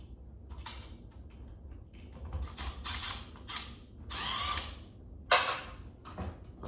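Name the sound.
unscrewing a ground screw from a junction box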